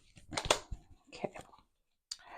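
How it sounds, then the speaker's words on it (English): Tarot cards being shuffled up close, a series of soft riffling clicks and flicks in irregular bursts, broken by a short quiet gap before a final flurry. "Just gonna shuffle our tarot cards a little bit more"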